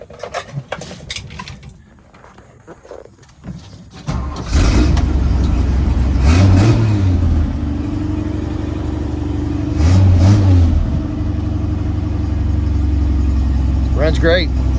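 A Toyota Land Cruiser engine cranks with a few short starter whirs, then catches and keeps running at a loud, steady idle with two brief revs. A person talks before and over it.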